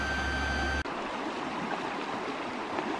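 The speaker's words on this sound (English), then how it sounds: "This is the river we're camping next to." A river flowing beside a campsite, heard as a steady rushing and gurgling of water that follows a brief electronic tone.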